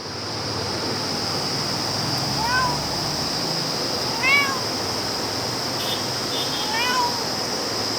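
A mother cat meows three times in plaintive, rising-falling cries spaced a couple of seconds apart, close and fairly clear over a steady wash of wind and surf-like background noise.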